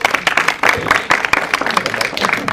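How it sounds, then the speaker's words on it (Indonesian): An audience at a press conference for the film Sinden Gaib applauds actress Sarah Fajira, dense, lively, close clapping with individual claps standing out, fairly loud and steady throughout. "Kita boleh beri tepuk tangan untuk Sarah Fajira dulu dong."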